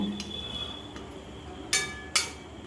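Chicken kali mirch is stirred in a pan, a few light scrapes and taps followed by two sharper metallic clinks of the utensil against the pan, fairly close and otherwise quiet.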